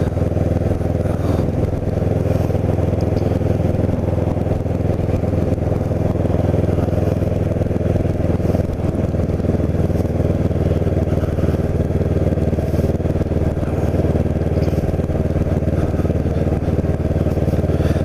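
A Kawasaki Ninja 650R motorcycle rides through a seaside town on a sunny day, its engine humming steadily and loudly with constant wind rush across the whole stretch.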